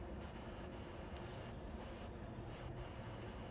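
WD-40 sprays around the lip of a Nissan gas cap filler neck in a soft, continuous hiss lasting a few seconds, with faint breaks in the spray partway through and no talking.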